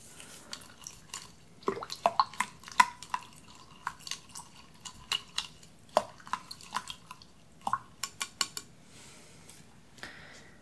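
Herbs and flowers tossed and mixed by hand in a bowl, heard as close, soft wet crackles and scattered clicks in an irregular rhythm, quiet and without talk.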